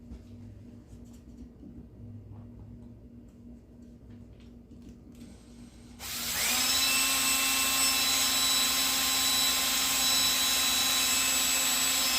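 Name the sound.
drilling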